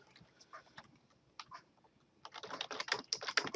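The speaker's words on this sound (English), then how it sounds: "we will type system.out.print" Code is typed on a computer keyboard, quiet scattered keystrokes at first building into a faster, denser run of close clicking taps.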